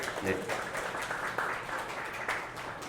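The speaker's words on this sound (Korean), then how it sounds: "다시 한번 박수 부탁드립니다" An audience at a Seongsu design and retail forum gives a short round of applause after a talk. The clapping stays fairly even and moderate and blends with the room's other noise, with no distinct voice over it.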